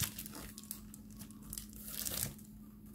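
Crinkly plastic packaging being handled and opened up close, a continuous rustling and crackling with irregular bursts of crinkles over a faint steady hum, no talking.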